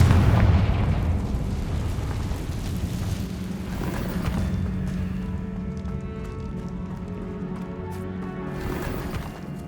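A Confringo spell blasting in Hogwarts Legacy, a loud booming burst that rolls into a rumbling decay and lingering debris rattle inside a cavern, fading gradually over several seconds.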